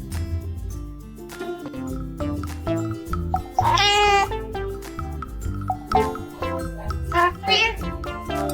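Cats meow loudly, with a long drawn-out yowl in the middle, over dense background music as two cats face off, one protecting kittens, in a playful pet scene.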